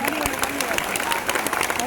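An audience claps for Jafar Bhai at a mosque gathering, a dense, continuous burst of applause with a voice speaking over it.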